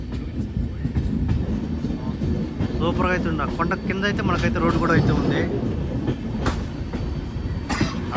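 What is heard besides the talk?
Karwar Express train running, Mangaluru to Yesvantpur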